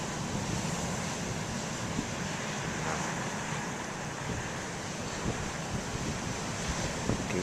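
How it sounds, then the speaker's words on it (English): Modest ocean waves break on the shore as a steady, continuous wash of surf, with wind buffeting the microphone throughout and occasional small crashes standing out. "I don't think the waves are all that big, but I think they're better today than they were back on April 1st"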